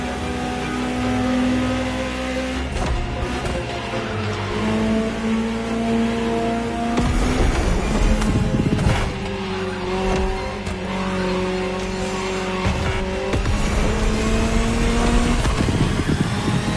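A Ferrari supercar in a video game revs hard and drives, its engine note climbing and dropping through repeated gear shifts, loud and close, with brief tire squeals and no talking.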